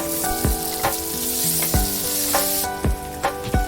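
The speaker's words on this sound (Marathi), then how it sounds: "कांदा भाजल्यानंतर टोमॅटो विरघळेपर्यंत भाजून घ्यायचे आहे." Onion and tomato fry in hot oil for pav bhaji, a steady loud sizzle broken by several sharp spatula scrapes and knocks against the pan at irregular intervals, with no one speaking.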